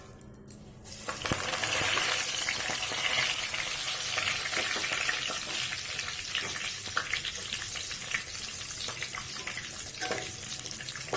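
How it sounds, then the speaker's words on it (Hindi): Curry leaves fry in hot oil over a high flame, with a loud, dense crackling sizzle that surges after a brief quieter start and keeps on steadily, dotted with small pops and stirring clicks. "अब करी पत्ता फ्राई करेंगे।"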